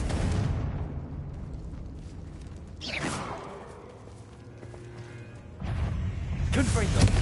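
Confringo blasting spell in Hogwarts Legacy: a sudden whooshing burst with a sharp crack around the middle, then quieter rumble before a second heavy fiery roar surges in near the end, over steady game ambience.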